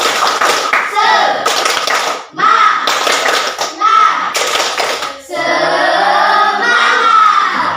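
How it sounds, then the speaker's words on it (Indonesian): A school class performs a rhythmic spirit clap in unison, sharp patterned bursts of hand claps in groups separated by brief pauses, followed by children's voices chanting together loudly in the classroom. "Tepuk semangat."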